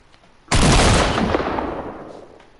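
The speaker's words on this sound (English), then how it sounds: "Shoot the shotgun." A single loud shotgun blast in a video game, a sudden boom followed by a long, slowly fading rumbling tail, with no other sound around it.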